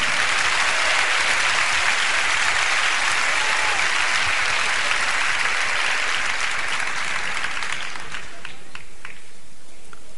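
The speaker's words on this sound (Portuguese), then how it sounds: "pode aplaudir, isso é bom" A church congregation applauds during a testimony: a dense, sustained roar of clapping that holds steady for several seconds, then thins into a few scattered, separate claps as it dies away.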